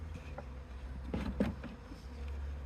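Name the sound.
bees buzzing around an open hive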